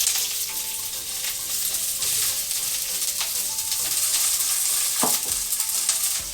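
Handful of cabbage sizzling and frying in very hot oil in a pan while making yakisoba, a steady crackling hiss with occasional stirring scrapes, close and alone without talk.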